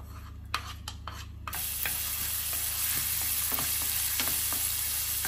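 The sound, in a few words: ginger frying in oil in a frying pan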